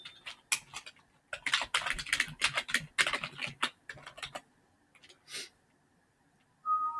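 Rapid clicking of computer keys in irregular bursts, close and fairly quiet, with short pauses and a faint beep near the end.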